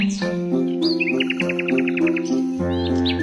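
A nightingale sings in a children's animation, a bright run of rapid repeated chirps and trills over a sustained, gentle musical backing.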